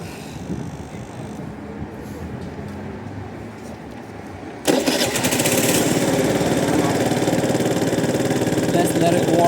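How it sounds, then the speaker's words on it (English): A Suzuki Let's 4 50cc scooter's small engine starts abruptly partway through after a quiet stretch, then idles with a steady, buzzing drone at close range. "I'm just gonna go ahead and start the motorcycle so it warms up a little bit"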